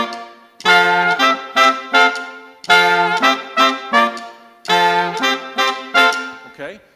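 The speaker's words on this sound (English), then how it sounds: "So this is what the horns play at the very introduction." Live horn section playing a song intro: three repeated brassy phrases, each a long held chord followed by short punchy stabs, loud and close with no talking.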